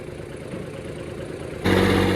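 A tractor engine idles with a steady low rumble, then jumps sharply louder as it revs up near the end, close and alone.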